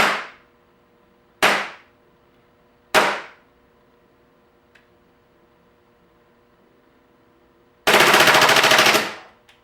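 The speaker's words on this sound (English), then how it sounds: "full auto mode, or what I call fun mode, allowing me to shoot all the BBs contained in the magazine with just a single trigger pull" A Crosman full-auto P1 air pistol firing BBs, three single sharp cracks with ringing decay, then a loud rapid full-auto burst of about a second, close in a quiet room.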